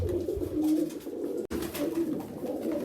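Pigeons kept by a breeder coo softly and repeatedly, a low rolling warble heard close by with a brief break midway and no voices over it.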